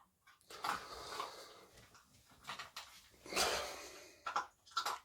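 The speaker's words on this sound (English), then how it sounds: "Just Belle eating kibble" A dog named as eating kibble, producing irregular bursts of crunching and chewing at close range, with short pauses between mouthfuls and no talk.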